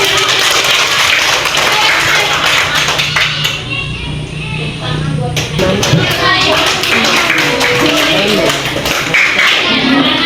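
Classroom applause for a student after reading aloud, a scattered burst of clapping hands mixed with chatter and a teacher's voice, fairly close, fading in the middle then picking up again.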